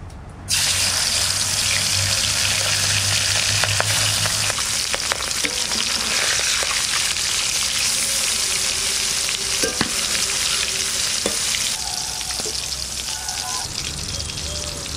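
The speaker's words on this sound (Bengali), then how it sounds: "মাছ ভাজবো, কড়াই চাপা দিচ্ছি।" Fish frying in mustard oil in a pan, a loud, steady, continuous sizzle that runs throughout with occasional stirring clatter and faint background noise.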